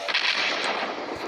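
A loud, sustained blast rumbles and roars for over a second with no pause, close and alone.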